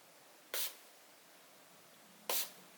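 A spray bottle gives two short, sharp spritzes onto a Morphe M124 makeup brush, well spaced apart and close to the microphone, with near silence in between.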